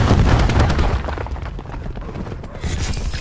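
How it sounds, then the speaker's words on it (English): Cluster grenade detonating in Black Ops 4 multiplayer, a dense rumbling blast with crackling bursts that stays loud through the whole stretch, set among steady battle noise with no talking. "Cluster grenade going out."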